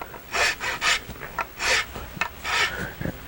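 A rasp files along a carved wooden walking stick, giving rough rhythmic scraping strokes in short bursts, close up, with brief pauses between passes and no talk.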